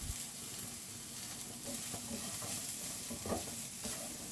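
Curry powder and bean sprouts stir-frying in a pan for Singapore rice noodles, a steady soft sizzle with scattered stirring scrapes, fairly quiet throughout.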